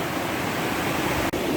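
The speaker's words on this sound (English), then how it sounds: "listen to the river and the creek" Big Creek and the river in the Great Smoky Mountains, a steady, full rush of flowing water heard close and alone, with one very brief dropout near the end.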